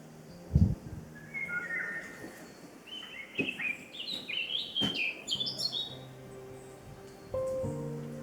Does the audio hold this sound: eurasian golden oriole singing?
yes